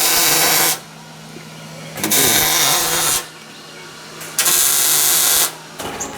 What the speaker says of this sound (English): She's welding in the door bar over there.